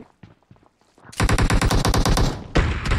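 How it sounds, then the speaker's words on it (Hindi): Gunfire in PUBG Mobile: a few scattered shots, then a loud, rapid run of blasts that pauses briefly and resumes, close and dominant, with no talk over it. "ये शॉट गन चली ना"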